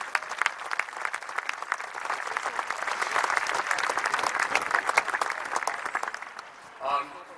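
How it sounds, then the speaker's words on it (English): An audience claps in sustained applause, dense and steady for several seconds before tapering off, with a brief voice near the end. "So let's give them a round of applause."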